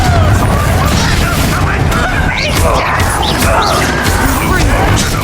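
Confringo blasting spells explode in a Hogwarts Legacy duel: dense, continuous booming blasts and crashes pile up over heavy rumbling combat noise throughout, with no gaps.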